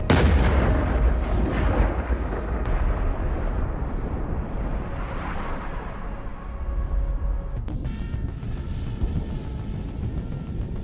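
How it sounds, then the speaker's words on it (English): Continuous low rumbling with dense booms and thuds of distant artillery fire, steady throughout, with a sharper crack or two near the end. "The sound of explosions, faint at first, grows clearer with every passing mile."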